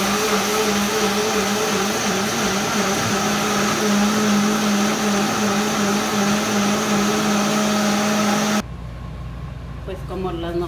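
A blender grinds ingredients for espinazo con nopales with a loud, steady whirring drone that runs unbroken for about nine seconds before cutting off, leaving a quieter room with faint clatter.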